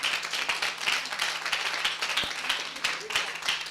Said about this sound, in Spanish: Yo creo que le demos un aplauso al Señor por eso